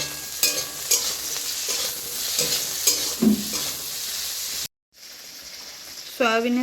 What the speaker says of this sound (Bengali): পিসটা আলাদা আলাদা করে ভেজে নেবে সামান্য লবণ দেব সয়াবিনের